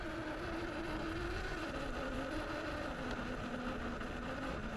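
An electric motor in an Axial SCX6 scale RC crawler hums steadily at a constant pitch, fairly quiet and close, with no talking.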